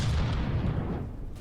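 A tank gun fires a single heavy shot in From the Depths, a deep booming blast that rumbles and decays over about a second.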